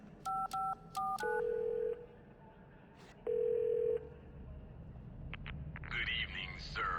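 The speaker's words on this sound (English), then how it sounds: "I'll dial a number, and as soon as the phone on the other end actually picks up" A phone in the video game The Darkness dials a number: a quick series of distinct keypad tones, then a long steady ringback tone, followed by a burst of voice and music-like sound on the line.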